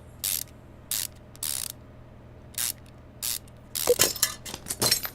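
Ratcheting wrench sounds from the game Car Mechanic Simulator 2015 as car bolts are tightened, several short crisp bursts spaced apart, then a denser run of quick clicks near the end, close and clean with no voice.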